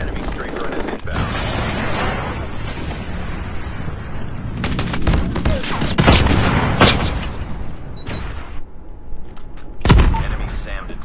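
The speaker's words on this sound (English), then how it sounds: "Enemy strafe run is inbound." Strafe-run airstrike in the Call of Duty Mobile multiplayer video game, with loud bursts of rapid gunfire and booming explosions in clusters, and a game voice announcing over the barrage.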